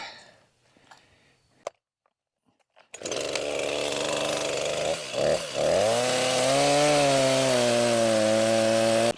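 A chainsaw starts after a few seconds of quiet scuffing, then roars loud and close as it cuts down a pine stump. The engine pitch dips as the chain bites into the wood, then holds steady under load.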